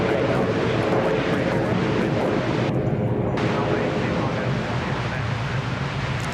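Dash 8 Q200 turboprop at Sydney Airport, a loud continuous roar of engines and propellers with a broad rumbling wash, sustained throughout.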